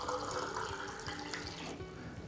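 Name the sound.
water running from a tap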